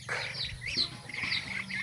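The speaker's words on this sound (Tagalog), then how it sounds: "Yan po yung mga pato, mga bagong anak." Newly hatched ducklings peeping softly in a run of high, quick chirps, faint and near, with no voices.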